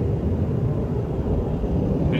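A jet aircraft flies past, a loud, steady broadband roar and rumble that holds for a couple of seconds with no clear change in level.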